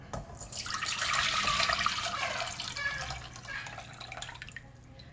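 About a quart of water pours out of a container, splashing steadily for several seconds, loudest at the start and gradually thinning out toward the end.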